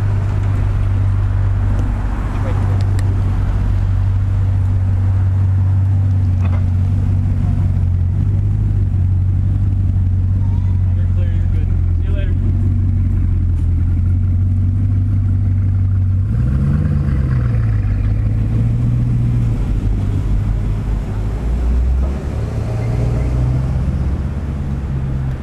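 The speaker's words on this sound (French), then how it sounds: "Et voilà, une Chiron qui s'en va." A Bugatti Chiron supercar pulls away on a street in Beverly Hills. Its deep, loud engine rumble holds steady, then shifts in pitch partway through as the car moves off.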